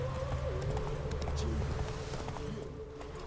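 Roach the horse moves along at pace in The Witcher 3, soft rhythmic hoofbeats under a steady bed of game music and ambience, fairly quiet throughout.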